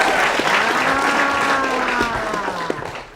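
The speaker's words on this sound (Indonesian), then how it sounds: "Silakan kakak yang belakang tepuk tangan dulu." A crowd at a campus event claps in a loud, steady burst that gradually thins toward the end, with a faint trace of voices underneath.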